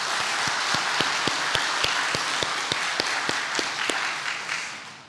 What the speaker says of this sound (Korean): 우리 하나님께 영광의 박수를 우선 한번 하겠습니다